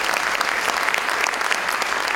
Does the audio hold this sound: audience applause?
yes